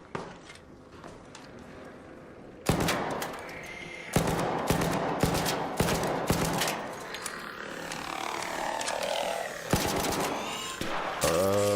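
Gunfire in the video game Arc Raiders while shooting at ARC enemies: loud, sharp bursts and rapid volleys of shots, with quieter game noise between them.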